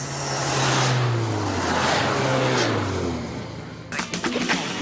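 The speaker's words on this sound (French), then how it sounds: "c'est la R21 2 litres turbo." A Renault 21 2-litre turbo engine revs in a long, steady rise and fall of throttle, loud and close, then eases off into quieter idle with clicking and knocks near the end.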